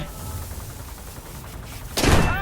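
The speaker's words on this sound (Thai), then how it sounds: "โดนยิง โอ้ เอเอยิง" Anti-aircraft fire bursts around a He 111 H-16 bomber in War Thunder. A steady rumbling drone runs throughout, and a sudden, loud, close burst of gunfire erupts near the end.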